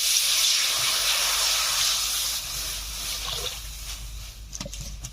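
Water goes into a hot wok after frying cauliflower, bursting into a loud broad steaming hiss that slowly eases off, with a few small clinks near the end.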